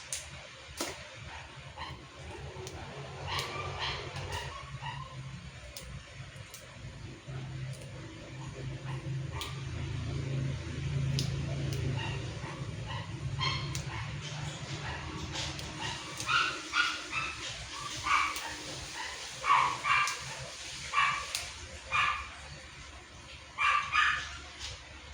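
Several male dogs, worked up by a female in heat, bark and yip in short excited bursts with whimpering between them, close by, under low background rumble.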